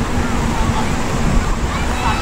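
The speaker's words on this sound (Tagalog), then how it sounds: "Ito mahina lang na agos." A gentle, shallow river current flows and sloshes steadily, with a murmur of people's voices nearby and no break in the water sound.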